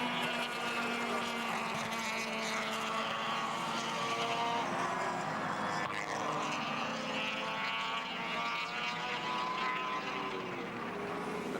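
Touring race cars at Surfers Paradise in 1983 roar continuously past the track at half race distance, a dense, loud engine drone that swells and shifts in pitch as the field circles, with no talk over it.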